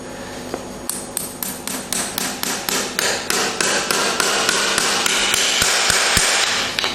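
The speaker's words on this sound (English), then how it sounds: "We use the second inside nail as a starting nail and drive it in." A farrier hammers a horseshoe nail into a horse's hoof, a quick series of sharp ringing taps that speed up into a rapid, close, steady strike pattern.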